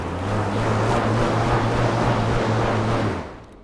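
A Fringe Sport Raptor air bike ridden hard, its fan producing a loud, steady whooshing roar with a low hum, close and continuous before tapering off at the end.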